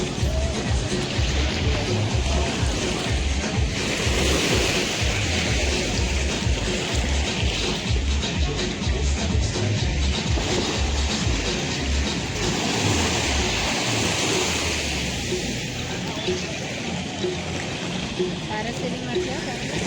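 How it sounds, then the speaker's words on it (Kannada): Ocean waves breaking on a beach in Thailand, with party music playing nearby, make a loud, continuous wash of surf that holds steady throughout. "ಬ್ಯಾಕ್ಗ್ರೌಂಡಲ್ಲಿ ಪಾರ್ಟಿ ಮ್ಯೂಸಿಕ್ ನಡುವೆ ಈ ಅಲೆಗಳ ಸದ್ದು ತುಂಬ ಜೋರಾಗಿ ಕೇಳಿಸ್ತಾ ಇತ್ತು"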